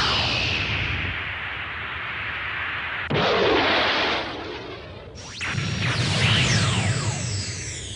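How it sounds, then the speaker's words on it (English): Meteorite rockets burst in an animated Mega Man movie, with loud sweeping whooshes and heavy explosive blasts. One impact hits abruptly partway through and a second erupts later, both followed by rumbling debris, and no voices are heard. "Those meteorite rockets weren't strong enough to do much damage to Mega Man at all"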